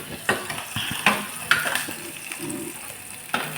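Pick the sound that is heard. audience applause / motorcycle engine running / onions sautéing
onions sautéing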